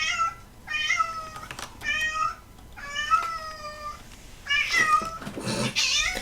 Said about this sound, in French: Il y a mon chat qui arrive en miaulant, tout ce que vous entendez là